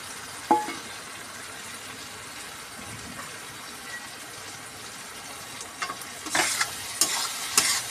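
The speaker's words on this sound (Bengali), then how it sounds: "একটু নাড়ছে, চিকেনটা ভালো করে মশলার সাথে নেড়ে নিচ্ছে।" Chicken is stirred with spices in a pan, making a low, steady frying hiss with a sharp clink near the start and a cluster of louder scraping and clattering bursts toward the end.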